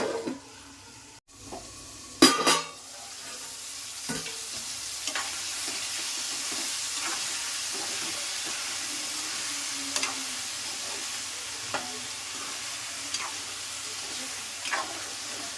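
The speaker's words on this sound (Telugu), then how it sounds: "మధ్య మధ్యలో ఇలా కలుపుకోవాలండి ఎందుకంటే ఇంకా అడుగు మాడిపోద్ది ఈ వంకాయలు" Eggplant pieces for a curd brinjal curry sizzle steadily in a hot pan while a spoon stirs them, with occasional scraping clicks and knocks against the pan; no one speaks.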